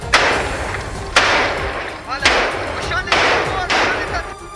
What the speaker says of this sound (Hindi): खान यूनिस के कई इलाके गोलियों और बमों की आवाज से थर्रा उठे